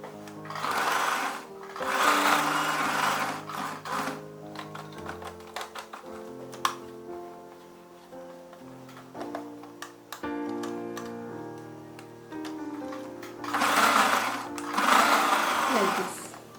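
A sewing machine runs in close, loud bursts while stitching a V-shaped seam on a romper dress, whirring and ticking between pauses, with a voice talking alongside.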